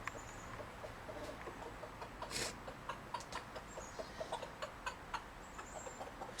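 A rooster or hen clucks in a steady run of short, repeated calls while calling the hens, fairly close over a low background hum, with no talking.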